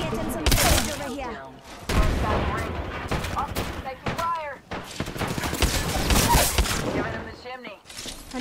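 Dense automatic gunfire rattles through an Apex Legends firefight in long, loud overlapping bursts with sharp shots and a few short gaps. Players talk over the shooting.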